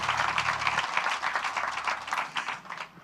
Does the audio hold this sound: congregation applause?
yes